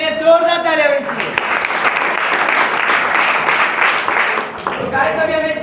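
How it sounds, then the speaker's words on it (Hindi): A meeting audience bursts into loud, dense applause that holds for several seconds, with a speaking voice just before and after it. "जाते काल वाले सर के लिए जोरदार तालियां बजाइए।"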